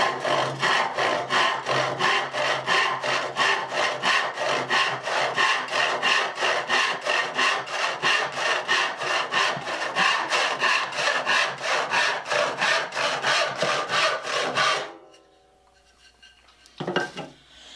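A hand saw cuts a wooden board for a saw till in fast, even rasping strokes, loud and close, for about fifteen seconds before stopping, followed by a short knock.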